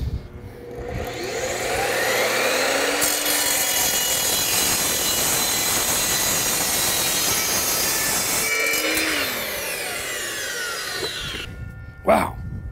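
A power saw bites through square steel tubing in one long, loud, screeching cut lasting several seconds, winding down afterwards with a short whirring spin-down.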